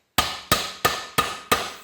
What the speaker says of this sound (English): with a ball peen hammer